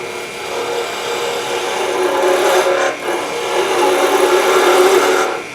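A skew chisel cuts wood on a spinning lathe while turning a spiral goblet, giving a continuous close, loud, rasping hiss that swells and briefly dips in the middle.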